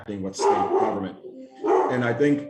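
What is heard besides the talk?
dog barking in the background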